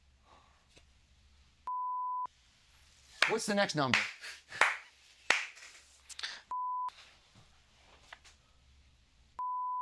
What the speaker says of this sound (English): Bleep this too.